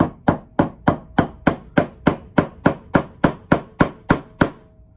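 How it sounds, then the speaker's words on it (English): Light, even hammer taps on a nail, about fifteen crisp metallic strikes in a steady quick rhythm, close and alone with no talking. "take your hammer and hold it in the middle of the handle and tap lightly on the nail"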